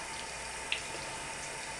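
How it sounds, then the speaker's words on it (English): Tap water runs steadily over a makeup brush in a sink, a soft continuous hiss and splash with one small drip-like click partway through, heard alone and close. "Soak it under the water"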